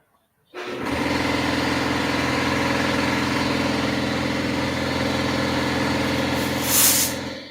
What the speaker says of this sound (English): I'm going to turn my compressor on, so it's going to be kind of noisy.